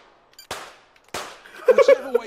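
Two sharp gunshots crack about half a second apart in the London 2012 video game shooting event as shots are fired at targets. A short burst of brighter tonal game sounds follows.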